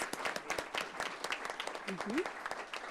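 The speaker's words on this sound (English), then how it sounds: "let's give them all one more round of applause" A crowd at a school board meeting applauds steadily with dense clapping, some voices mixed in beneath it.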